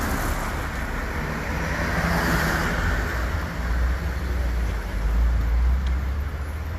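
Car traffic at a night police checkpoint gives a continuous broad roadway rumble and hiss, with engines passing at moderate distance and a low steady drone throughout.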